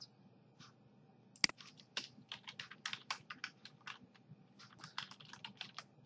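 Keys clack on a computer keyboard while an HTML image tag is typed, a quiet close burst of quick irregular keystrokes after one louder initial click.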